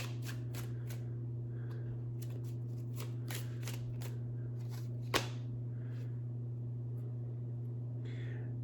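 Keeper of the Light oracle cards are shuffled and drawn by hand: a run of soft, crisp riffling flicks and slides, with one sharper snap partway through, over a steady low electrical hum and no talking.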